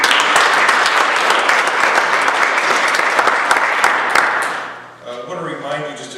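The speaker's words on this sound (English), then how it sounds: "we want to give him a round of applause" A crowd applauds at a panel discussion, dense clapping held loud and steady for about five seconds before fading, after which a voice begins speaking.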